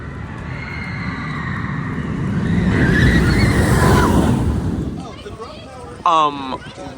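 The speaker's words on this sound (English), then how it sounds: "This is a Gerstlauer Infinity Coaster." The Gerstlauer Infinity Coaster Schwur des Kärnan at Hansa Park gives a rushing roar of wind and track noise. It swells to a peak, fades, and ends with a brief loud shout from a rider.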